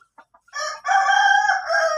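A five-month-old Sweater Boston rooster crows once, loud and close, after a few short clucks, the call stretching into a long wavering cry.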